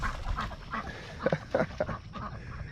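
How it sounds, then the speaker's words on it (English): Ducks quack on a pond on a morning walk: a few short, nasal calls in a loose cluster over soft outdoor background noise. "So the ducks are loving it this morning."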